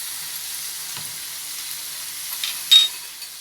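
Tomatoes with turmeric, cumin and coriander powder and red chilli frying in a pan for a street-style ragda patties, a steady soft sizzle with a brief stirring scrape near the end.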